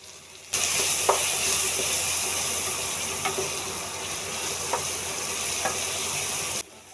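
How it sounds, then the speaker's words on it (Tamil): Onions sizzle steadily in a pan with turmeric and salt, a dense close hiss with a few sharp clicks of stirring, starting abruptly and cutting off near the end. "ஆனியன் வந்துட்டு போட்டு நல்லா வந்து ஃப்ரை பண்ண ஆரம்பிச்சிட்டேன்"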